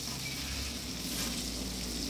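Mango pieces coated in salt and turmeric, with roasted ground spice added, sizzle in a frying pan as a steady, soft hiss that stays even throughout, with no talking.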